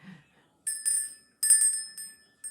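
A small hand bell rung several times in bright, clear bursts with short decaying rings, close and alone after a brief opening murmur.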